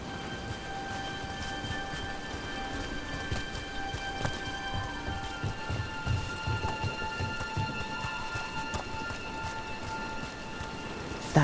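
Steady rain pours throughout an outdoor scene in Dragon Age: The Veilguard, a dense, even hiss with faint spatters, over a low rumbling background and no talk.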